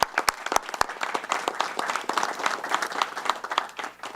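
Sustained audience applause at a sheriff's office ceremony hosting the Florida governor's bill signing, dense clapping from a sizable crowd filling the room steadily for several seconds with a few sharper individual claps near the start.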